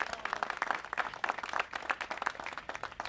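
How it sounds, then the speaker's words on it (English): Scattered, fairly faint audience clapping at a Los Angeles press conference, irregular individual claps from a modest crowd heard alone for a few seconds. "let's give them a round of applause for that"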